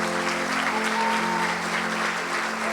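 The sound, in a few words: congregation applauding loudly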